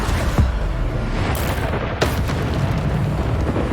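Bombarda spell blasts from Hogwarts Legacy on PS5 fire as repeated booming explosions over dense rumbling game noise, with sharp bursts near the start and around the middle.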